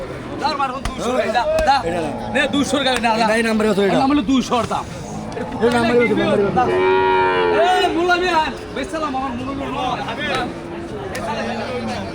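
Dairy cows and calves mooing at a busy cattle market in Chandpur, several drawn-out moos close by and overlapping, under constant chatter and crowd noise.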